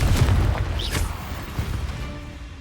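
The Confringo fire spell detonates in Hogwarts Legacy with a deep, booming blast at the start that rolls off into a rumbling, crackling decay.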